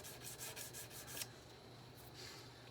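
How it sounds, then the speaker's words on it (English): Guitar frets on a Martin dreadnought being polished with 800 grit abrasive, heard as a close, rhythmic rubbing stroke repeated several times quickly, then a quieter, smoother stretch of rubbing. "I'm using about 800 grit on this this polish here"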